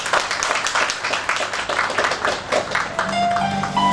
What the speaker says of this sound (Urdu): حفیظ عامر کے لیے ایک زوردار تالی بجا دیجیے